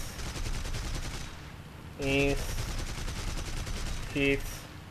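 Aircraft guns firing in War Thunder from a Heinkel He112B-0 fighter, rapid rattling gunfire over engine drone, with two short bursts punctuated by distinct tonal hit or cannon sounds.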